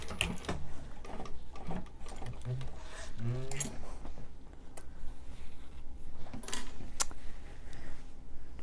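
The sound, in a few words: sewing machine stitching over wristlet card slots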